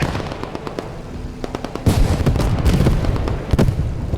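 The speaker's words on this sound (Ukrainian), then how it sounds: "І тут е, страшні обстріли, і от зіми. Артилерія не змовкає." Artillery shelling and gunfire on a Pacific-front battlefield in the video game Squad 44, Japanese against Allied forces: a rattle of sharp shots, then a loud heavy boom around the two-second mark and a sustained roar of blasts and cracks, with no voices.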